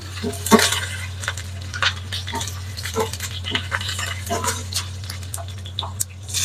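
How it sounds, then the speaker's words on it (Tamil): Mustard seeds and cumin spluttering in hot cooking oil for an emperor fish curry, scattered small pops and crackles over a low steady hum, close and moderately loud. "இப்போ பார்த்தீங்கன்னா கடுகு சீரகம் எல்லாம் நல்லா இந்த எண்ணெயில் பொரியுது"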